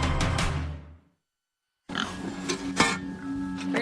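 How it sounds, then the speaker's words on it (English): Pigs grunting and oinking at a home in Yuma, Colorado, close and fairly loud, a burst of grunts, then a silent gap, then more snorting oinks. "As Laura Saxton tends pigs in her Yuma, Colorado home"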